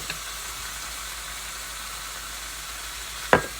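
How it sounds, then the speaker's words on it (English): Cheesesteak meat sizzles in a pan with a steady, even frying hiss throughout, broken near the end by one brief sharp clink, with no talking. "You can hear the sizzle"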